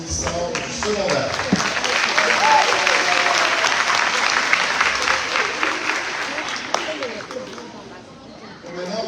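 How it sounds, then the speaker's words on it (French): Sustained applause from a crowd at a graduation celebration for secondary school graduates in a cathedral parish setting, steady dense clapping with light chatter mixed in, fading slightly toward the end. "Applaudissons nos finissants du secondaire."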